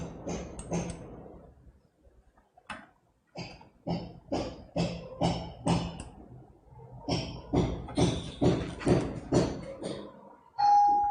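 A doorbell rings repeatedly in a classroom setting, a series of short, sharp, evenly spaced presses that are loud and close, with brief pauses between bursts.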